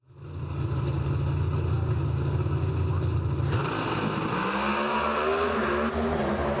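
NHRA drag racing cars at full throttle, a loud continuous engine roar that builds quickly and holds for several seconds, its pitch shifting midway as the cars pass, with no talk.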